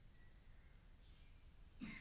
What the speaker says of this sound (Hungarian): a tücsök ugyanígy ciripelt